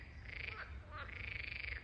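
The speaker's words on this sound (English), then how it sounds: "Hear the frogs?" Frogs croak in the water of the castle moat at Burg Linn in Krefeld, two clear trilling bursts close by over a low outdoor background.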